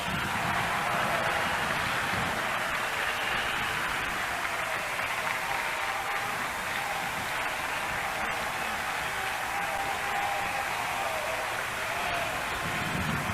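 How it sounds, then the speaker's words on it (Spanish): A church congregation applauds steadily for a long stretch, a dense, even wash of clapping with faint voices underneath. "Un aplauso para el que vive."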